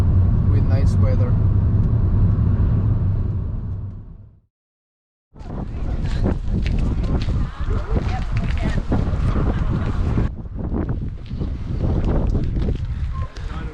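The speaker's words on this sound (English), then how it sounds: "Don't know if you can hear because of the wind" Strong wind buffets the microphone outdoors near volcanic craters in Iceland, roaring steadily, then cutting out for about a second before gusting back in with a harsher, noisier rush.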